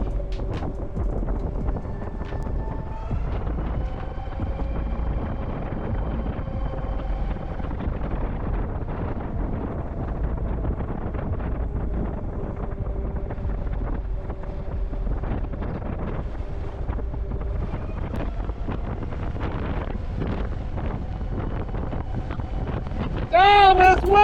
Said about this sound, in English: Man, this wind is rough.